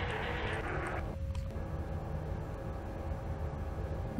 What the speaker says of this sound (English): That's the sound of an actual swarm actually roaming around room 2 there.